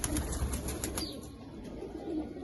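Wings of desi-breed pigeons flutter and beat nearby in a few quick bursts, the rustling loudest at the start and then settling into a softer, continuous background with no voices.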